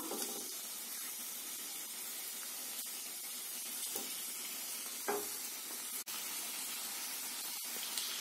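Fried eggs go into a pan of sizzling pepper masala for an egg pepper fry, a faint, steady hiss running throughout with a few light clinks of a spoon against the pan.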